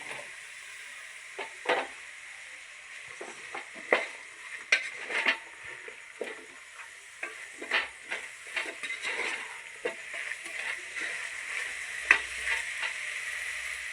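Chopped, washed elephant foot yam frying in a spiced gravy with garam masala as a spoon stirs it, with irregular scraping and clinking against the pot over a low sizzle and no talk.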